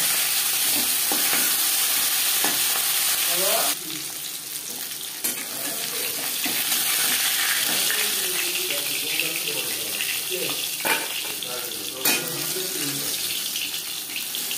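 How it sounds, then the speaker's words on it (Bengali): Katla fish head frying in a pan gives a steady, moderate sizzle, with occasional clatters and scraping of a utensil breaking through the crackle, and a voice speaking quietly underneath. "মাছের মাথা ভেজে নেওয়া হয়ে গেছে"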